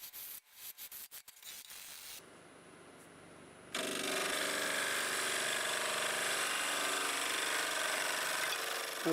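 A wood lathe spins a camellia stump while a 5/8 conventional bowl gouge cuts it, starting with a few choppy taps and then settling into a loud, steady, broadband shearing roar that holds without pause.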